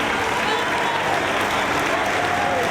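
A wrestling crowd at a Ring of Honor show cheers and applauds for Bryan Danielson during his 2004 match with Alex Shelley, a dense, steady roar of clapping and shouting that continues without a break.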